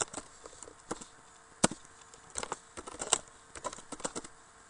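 Soft, irregular clicks of keys on a computer keyboard as someone types, quiet and close with uneven pauses between bursts.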